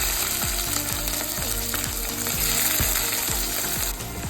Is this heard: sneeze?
no